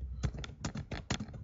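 Close, quick keystrokes on a computer keyboard, landing in short irregular bursts of about five or six distinct clacks over a second and a half, with no talking.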